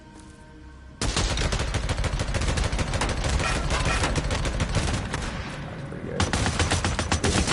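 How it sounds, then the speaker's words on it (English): Machine gun fire in the video game Days Gone: after a second of quieter ambience, loud, close, rapid sustained bursts run nearly continuously to the end, with a brief spoken remark. "Let's use this MG."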